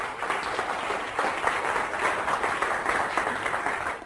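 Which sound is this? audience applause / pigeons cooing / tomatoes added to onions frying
audience applause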